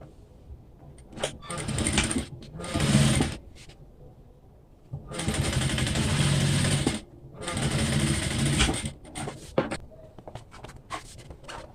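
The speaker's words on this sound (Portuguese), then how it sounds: "Vou puxar pra cá de novo e passar o pesponto." A sewing machine topstitches fabric for a cube toiletry bag with six compartments in several close, buzzing runs of rapid stitching, separated by short pauses and small clicks as the fabric is repositioned.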